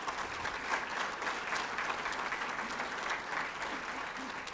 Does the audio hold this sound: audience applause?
yes